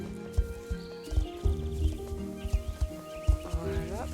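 A horse, apparently a game animal, clip-clops along in an uneven rhythm of soft hoof thuds, with tonal music and chiming effects layered over it.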